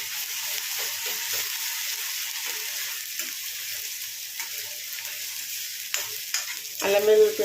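Ginger-garlic paste and onions fry in a pan with a steady, close sizzle. Stirring and scraping sounds come and go throughout, and a brief tonal rattle rises near the end.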